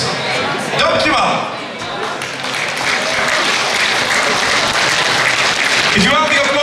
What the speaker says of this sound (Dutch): Een geweldig applaus voor Gertje